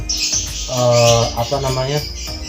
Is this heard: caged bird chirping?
yes